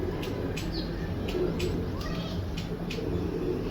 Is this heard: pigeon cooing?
yes